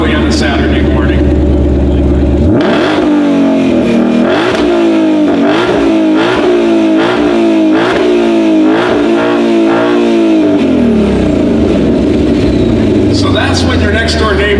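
A 2020 Ford Shelby GT500 V8 fires up loudly at close range, then revs in a quick series of rising, falling blips before settling back to a rumbling idle.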